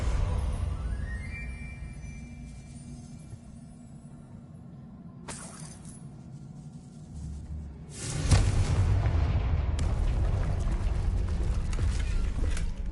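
Confringo fire-blast spells going off in Hogwarts Legacy, with a sharp crack near five seconds and then a heavy, roaring blast from eight seconds that leaves a sustained loud rumble under the game's low ambient drone.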